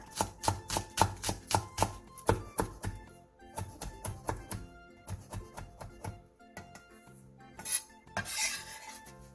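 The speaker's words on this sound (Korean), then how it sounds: "쪽파 5개를 쫑쫑 썰어주세요" A knife chopping five green onions on a cutting board: rapid bursts of crisp, even taps in quick runs, pausing between batches, close and clear with no talk.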